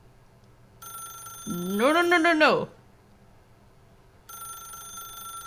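A telephone rings in the video game The Stanley Parable, a steady electronic ring that starts early, stops, and returns near the end, while a voice shouts loudly over its middle.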